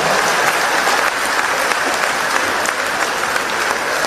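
A church congregation at a Christian convention applauding and cheering for Jesus, steady dense clapping from a large crowd close by, continuous and loud.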